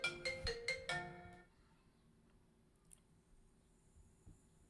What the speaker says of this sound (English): I always forget to turn my phone off